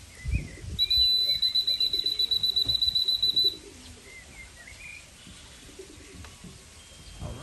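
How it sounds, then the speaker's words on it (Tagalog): At a racing pigeon loft, a steady high electronic beeping runs for a few seconds, likely the arrival timer, over soft bird calls, light rustling and faint outdoor background. "Yun mga Kala Brothers, nandito na yung unang ibon natin."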